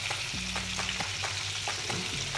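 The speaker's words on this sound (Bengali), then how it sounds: "আমি আমাদের সেই চিকেনগুলো এখন তেলে দিয়ে দিয়েছি" Chicken wings fry in oil over medium-low heat, giving a constant close sizzle with a few soft clicks and low hum underneath, no voices.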